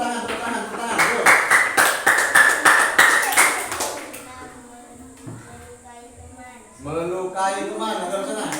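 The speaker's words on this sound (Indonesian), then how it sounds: "Tepuk tangan, tepuk tangan, tepuk tangan, tepuk tangan" A classroom of students claps hands in quick, repeated bursts for about four seconds, fairly close and loud, then fades to quieter voices and a teacher speaking.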